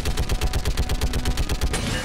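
Mounted turret in Mass Effect 3 hammers out a fast, even stream of shots, loud and continuous, before cutting off abruptly near the end.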